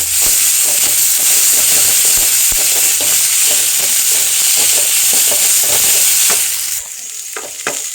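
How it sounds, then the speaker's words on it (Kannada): A whole head of garlic fries loudly in a pan, with a steady close sizzle and repeated scraping stirs. The sizzle drops away near the end, leaving a few separate stirring knocks. "ಇದನ್ನಿಗೆ ಚೆನ್ನಾಗಿ ಫ್ರೈ ಮಾಡ್ಕೊಳ್ಳುವ."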